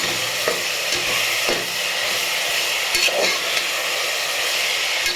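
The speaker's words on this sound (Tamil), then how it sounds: "நல்லா பொன்னிறமாக நல்லா வதங்கட்டும் வெங்காயம்" Onions sauté in hot oil for a prawn biryani, a steady close sizzle with occasional stirring scrapes and clinks throughout, no voices.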